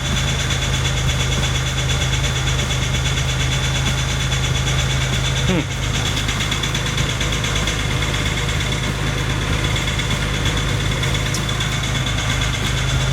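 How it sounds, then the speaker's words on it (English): Engine and drivetrain of a 2003 Jeep Wrangler TJ with a failing throwout bearing, a steady low idling drone with a faint rhythmic whirr and rattle running close and unbroken throughout, with no talk over it. "I think the throwout bearing is bad on this one."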